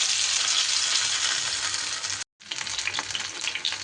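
Stuffed pointed gourd (potol) fries in hot oil in a pan, giving a loud, steady sizzle and crackle. It breaks off for a moment of near silence, then resumes with scattered pops, with no voices.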